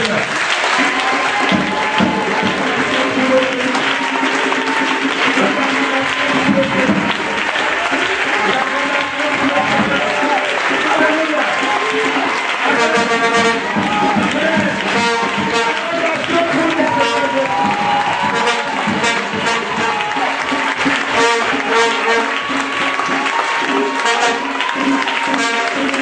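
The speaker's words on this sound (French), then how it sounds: "Une grande acclamation pour le Seigneur" A church congregation claps and acclaims during worship, loud sustained applause mixed with cheering voices and music-like tonal sounds, a full room of people making noise continuously.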